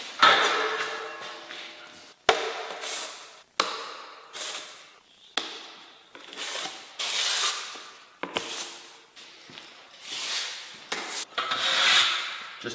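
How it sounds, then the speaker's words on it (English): Drywall mud being smoothed with a 14-inch flat trowel during a second coat in an off-grid cottage build: a series of close, rhythmic scraping and swiping strokes, each about a second long, with short gaps and a sharp tap between them. "I just go over it with the 14-inch flat."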